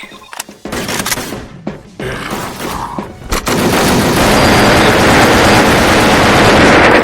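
Automatic Z36GL fire in the Wolfteam shooter, rapid bursts of gunshots growing into a dense, sustained loud barrage with explosions mixed in.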